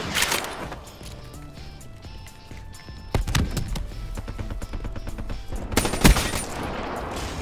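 Gunfire from a weapon in the Black Ops 3 video game, rapid loud bursts of shots over game music and effects, with sharper cracks near the start, middle and end.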